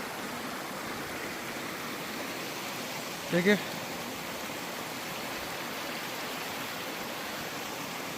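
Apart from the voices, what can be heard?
flowing stream water near Tata Pani hot spring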